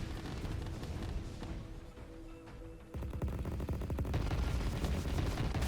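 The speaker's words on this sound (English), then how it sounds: "Poke forward, fire some missiles off the enemy." Missiles firing at the enemy in the strategy game Rogue Command, a dense roaring rumble of launches and impacts with crackling bursts, loud and continuous with a brief dip midway.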